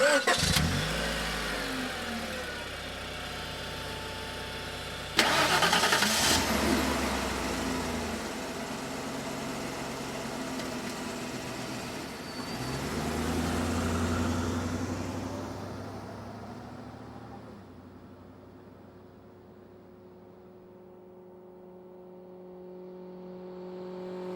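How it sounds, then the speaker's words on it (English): Car engine cranks and starts, then revs up and down a few times before settling toward a quieter idle, recorded close. "Late model vehicles."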